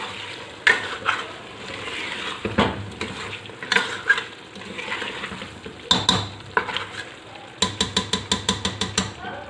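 Mutton, taro root and green chilies sizzle and fry steadily in a pan while a utensil stirs and scrapes, ending in a quick series of rhythmic taps against the pan.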